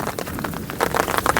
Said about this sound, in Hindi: पूरे में एकदम बर्फ ही बर्फ हो चुकी है चारों तरफ, और बारिश पड़ने लग रही है।